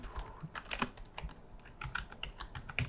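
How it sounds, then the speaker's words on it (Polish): Rapid typing on a computer keyboard, close and crisp, with irregular bursts of key clicks and thumps filling the moment without speech. "wpisujemy Google Mozilla Thunderbird"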